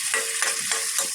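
A hotdog fries in a pan, a steady high hiss of sizzling oil with a few soft swells as it is stirred, close and alone with no voices.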